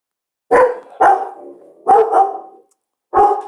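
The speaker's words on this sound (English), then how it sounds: "Excuse my dog, everybody. He's trying to crash the lecture here." A dog barks four times in loud, close bursts, the first two and the middle pair coming in quick succession, with a pause before the last bark, interrupting a math lecture.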